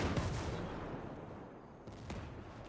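Enemy mortar fire in the video game Ghost Recon: Breakpoint, with faint, distant booming blasts and rumbling impacts at low level, one burst near the start and another later on.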